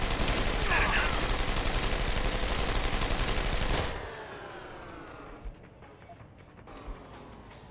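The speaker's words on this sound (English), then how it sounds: "I'm gonna go ahead and hit the other guy in the head with a sniper rifle and take him out though." Rapid, loud gunfire fills a Deus Ex Human Revolution game scene at first, then cuts off abruptly, leaving a quieter stretch with two brief sharp reports.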